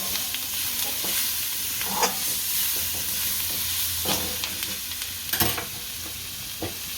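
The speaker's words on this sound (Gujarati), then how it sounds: "આ મસાલા સારી રીતના ભેળવી નાખશું." Veg Hakka noodles are tossed and stirred with masala in a hot pan, giving a steady sizzle under repeated scraping, clacking utensil strokes, close and fairly loud.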